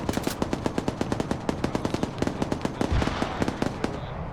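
Sustained automatic machine gun fire in a first-person military shooter game, a rapid, loud, unbroken string of sharp shots that runs for several seconds.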